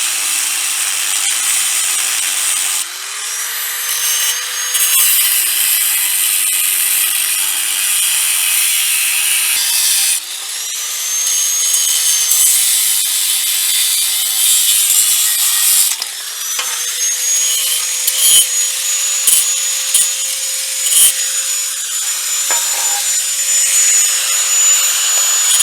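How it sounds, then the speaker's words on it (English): A cutoff wheel cuts into a washing machine part, a loud close high-pitched whine that rises and falls as the blade bites in, with several separate cutting passes and brief pauses between them. "I got my cutoff wheel. I'm going to go ahead and cut that now."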